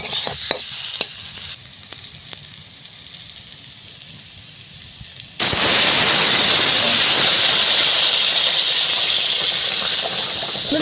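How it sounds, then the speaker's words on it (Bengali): Boiling water poured into a hot pan of Bengali spinach, potato and crab curry bursts into a loud, sustained sizzling hiss, preceded by quieter stirring scrapes and a few sharp clinks. "এবার এর ভিতরে আমরা এই ফুটন্ত জলটা দিয়ে দেবো"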